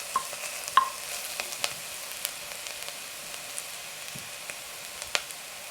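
Ingredients for a plant-based mac 'n cheese sizzle steadily in a pan, a continuous frying hiss broken by small pops and occasional stirring clinks, with no talking.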